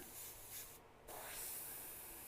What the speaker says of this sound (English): I'm going to get this to spray first